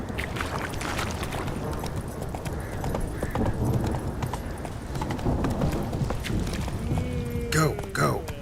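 Hooves of Roach, a horse in The Witcher 3, pound steadily in a fast gallop under busy game sounds, with a voice briefly calling out near the end.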